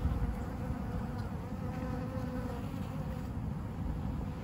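Honeybees buzz steadily from a hive in a concrete block wall, drawn toward window light, forming a continuous close droning hum with no pauses.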